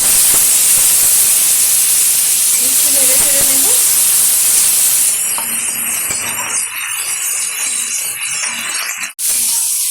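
Halved tomato goes into hot mustard-oil tempering in a pan for shol fish tel jhal, making a loud, continuous close-up sizzle and hiss that changes tone midway, with a sharp knock near the end.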